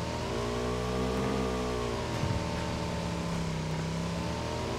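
A video game car drives past, its engine droning and rising then easing in pitch as it goes by, fairly loud and steady with no voices over it.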